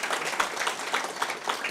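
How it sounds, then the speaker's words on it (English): An audience applauds three speakers at a tech talk event, a dense, steady wash of many hands clapping at moderate volume throughout. "another massive round of applause for all three of our speakers"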